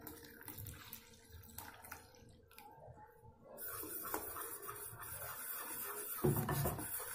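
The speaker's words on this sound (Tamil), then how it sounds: "கொஞ்சம் மிக்சியை லேசாக தண்ணி ஊற்றி அலசி சேர்த்துக்கோங்க." Water poured into a mixer jar to rinse it out into a pot of vadai mor kulambu, a Tamil buttermilk curry, giving a gentle splashing trickle that grows fuller and louder partway through, with no talking.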